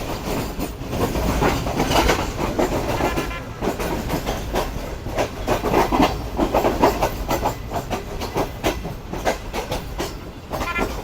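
Passenger train carriage wheels clatter steadily over the rails near Khanpur on a Karachi to Lahore express run, a loud continuous rhythmic clickety-clack with hiss, heard alone without voices.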